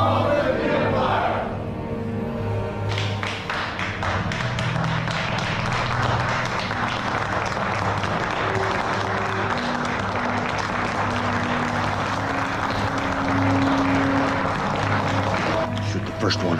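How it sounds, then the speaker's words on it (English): A large crowd applauds continuously and loudly for an imperial leader after a rousing speech, a dense unbroken wall of clapping over a low rumbling hum, beginning after a short quieter moment. "Shoot the first one who stops applauding."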